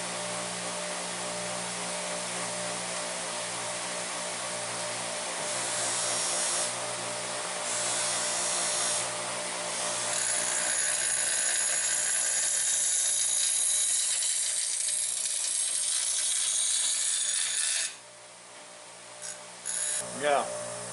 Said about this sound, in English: I'm now starting to reprofile the knife blade with this grinder.